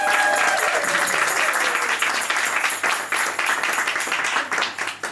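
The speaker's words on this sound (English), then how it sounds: "So if we could just have a round of applause for them." An audience claps warmly for people fighting cancer at a bell-ringing gathering, a dense and fairly loud round of applause that gradually thins toward the end.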